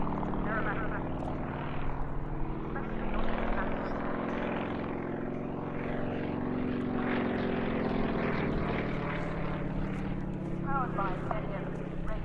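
A propeller aircraft flown by Kuipers performs a stall turn at a Duxford airshow, its steady droning engine loud and continuous, with commentary running over it throughout.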